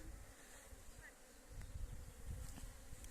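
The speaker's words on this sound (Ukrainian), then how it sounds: "кайф, коли це бджола гуде" Honeybees buzz in a continuous, rough drone at a spring apiary, quiet and close, with the hum swelling slightly midway and no talking.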